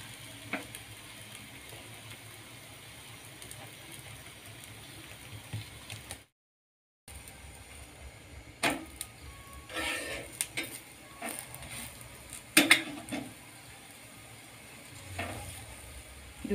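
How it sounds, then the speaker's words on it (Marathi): Methi thalipeeth roasts on a pan with a quiet, low sizzle, and a short gap comes before scattered spatula scrapes and pan clinks as the flatbread is flipped. "आता एक बाजू माझी भाजून झालेली आहे आणि मी पलटवून घेते."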